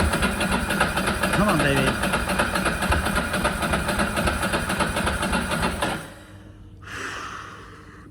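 A Ducati motorcycle engine turns over and runs loudly and roughly for about six seconds, then cuts out abruptly, leaving a quieter mechanical whir. Someone speaks over the engine noise.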